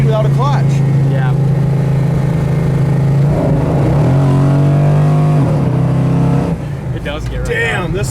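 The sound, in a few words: 1970 Pontiac GTO accelerating and shifting gears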